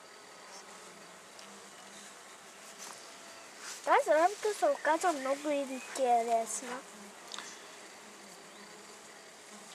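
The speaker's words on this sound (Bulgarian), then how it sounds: "Много пчели носят прашец." Honey bees crowd a top bar hive, many carrying pollen, making a steady low buzz that runs through the whole stretch while a voice talks over it in the middle.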